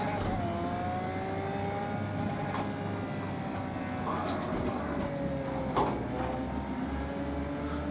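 A racing car's engine in the Project Cars 2 driving game, a car with a bigger engine driven on paddle shifters, drones steadily throughout with rising and falling revs as it shifts through gears.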